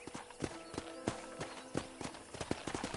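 Steady rhythmic horse hoofbeats clip-clop at a trotting pace in Red Dead Redemption, crisp and close, with no talking.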